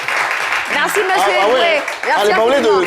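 Applause from a group rattles in the background while people talk loudly over it.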